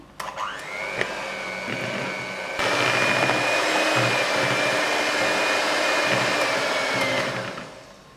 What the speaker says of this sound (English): I am going to beat the butter until it is creamy.